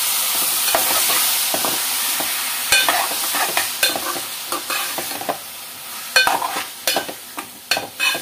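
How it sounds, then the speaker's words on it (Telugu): Egg and chilli curry stirred in a pan, a steady sizzle under repeated scraping strokes of a spoon against the pan, irregular and close. "ఒక్కసారి కలిపేసేసుకుందామండి."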